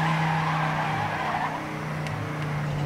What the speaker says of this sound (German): Ah, kommt hier wieder ein Drift rein.